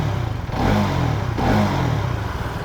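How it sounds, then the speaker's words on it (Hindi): A Hero Karizma XMR motorcycle exhaust rumbles steadily and fairly loudly up close, with a couple of mild swells in throttle over a few seconds. "एक बार मैं आपको एग्जॉस्ट का साउंड सुनाता हूँ"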